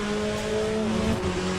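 Race car engines drone with tire squeal in the sim racing game Le Mans Ultimate, a steady, tonal multi-car roar held loud and close for a brief stretch with no talk.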